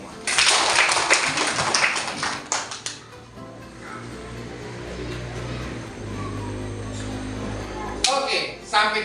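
A class of primary school students claps hands together in a classroom, a loud burst lasting a couple of seconds that then drops away to quieter room noise, with a brief clatter near the end.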